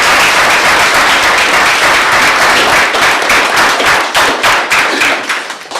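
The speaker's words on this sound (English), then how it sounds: "Let's give Annette a round of applause for" Loud, close applause from an outdoor crowd at a veterans' remembrance event honoring the host, dense at first, then thinning into distinct individual claps with a few thumps near the end.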